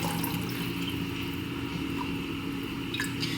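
Homemade bone broth trickles and splashes into jars over paper towels, a faint, steady liquid pour with soft drips under a low hum.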